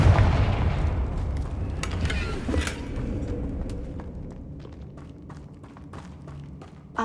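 A Confringo blast spell explodes in Hogwarts Legacy with a loud booming burst, its rumble slowly trailing off over several seconds amid scattered crackles and thuds.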